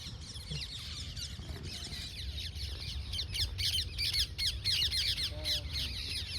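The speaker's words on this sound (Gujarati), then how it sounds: "પોપટ બોલાય" Harsh, repeated parrot squawks ring out in quick bursts over a steady outdoor rumble in a rainy village, growing busier and louder toward the end.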